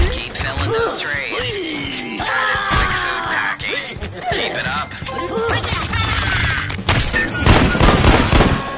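Gunfire in the game Call of Fruity, a dense fusillade of rapid shots and crashes alongside game voices and groans, loud and continuous throughout.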